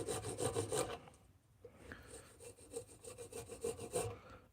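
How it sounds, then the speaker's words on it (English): Coarse wood rasp scraping across wood in rapid back-and-forth strokes, a dense burst of rough filing up close followed by a brief pause and then lighter, scattered rasping strokes, with no talking. "It's such a rough ass rasp."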